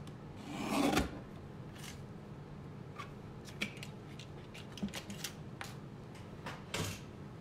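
Paper being trimmed for a handmade card: a few soft scraping and cutting sounds close by, with one stronger swish near the start and scattered light clicks and rustles afterward in a quiet room.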